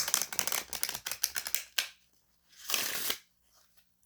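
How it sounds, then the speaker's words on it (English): Cards are riffled in a rapid flutter of crisp clicks, a pause, then a second shorter riffle, close and fairly quiet. "get you one more shuffle here"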